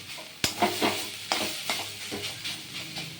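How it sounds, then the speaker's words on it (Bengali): Banana stem and green chillies frying in a pan, giving a steady close sizzle punctuated by several sharp scraping stirs of a spatula against the metal, with no voices. "যখন ভাজা হচ্ছে তখন সুন্দর গন্ধ বেরিয়ে গেছে"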